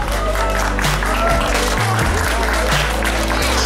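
Sustained crowd clapping rises at an outdoor cycling race award ceremony in Strzyżów. It is steady and mixed under prominent, loud music with a thumping bass line.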